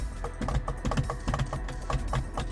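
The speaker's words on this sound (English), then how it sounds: "This one makes a funny clicking noise" A steady series of sharp mechanical clicks from a faulty electric door mirror motor on a Lotus Excel repeats at a quick, even rhythm, fairly close and moderately loud, with no voices.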